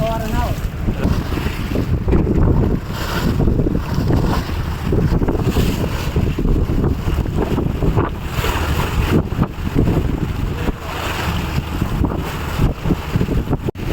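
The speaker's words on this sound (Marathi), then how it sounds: "चला आता आपली बोट दुसरे लोकेशन चालले आहेत" A fishing boat moves across the sea off Satpati near Mumbai, its engine drone blending with rushing wind buffeting the microphone and splashing waves, loud and continuous throughout.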